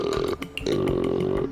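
A single long, guttural burp, done as an imitation of a deer call, rumbles loudly and close for over a second with a brief break near the start, with no talk over it.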